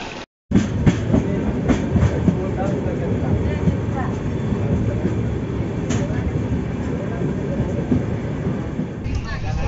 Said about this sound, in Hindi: आता आहोत भुवनेश्वर स्टेशनवर आता आणि लागलेली आहे आमची एक्सप्रेस,